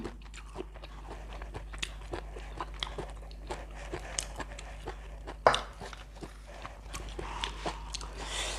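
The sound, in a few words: chewing and biting raw beef dish (jue nuea)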